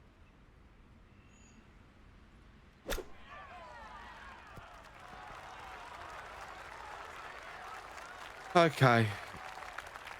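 In the golf video game PGA Tour at the Masters, a sharp club strike is followed by a rising wash of gallery applause that swells near the end, with a brief spoken word from a player.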